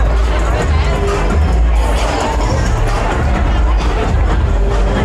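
A busy crowd packs a bar on Walking Street, making a loud, dense babble of many voices with music-like thumping underneath, heard close and unbroken throughout.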